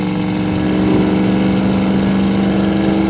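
A 1968 Ford Mustang V8 with headers drones steadily through its exhaust at cruising speed, a loud, deep, continuous rumble with no voices.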